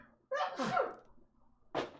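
A single close sneeze with a sharp intake and burst, followed by a quick breathy exhale or sniff after a brief pause.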